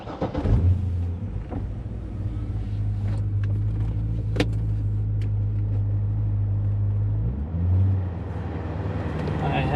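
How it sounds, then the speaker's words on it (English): A 2008 Corvette Z06 on a test drive, its engine holding a steady low rumble from inside the car before easing off and picking up again near the end, with no talk over it. "welcome to our 2008 Corvette Z06 test drive"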